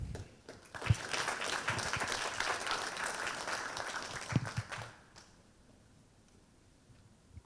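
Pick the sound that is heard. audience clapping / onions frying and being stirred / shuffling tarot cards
audience clapping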